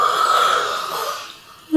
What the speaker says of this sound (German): Wir gähnen als erstes dreimal hintereinander.